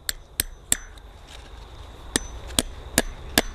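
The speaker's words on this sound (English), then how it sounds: "ensuring not to hammer the staples all the way home" Hammer blows driving staples into a woodpost insulator on a fence wire outdoors: seven sharp metallic taps, three quick then a pause and four more in steady rhythm, close and crisp over faint background hiss.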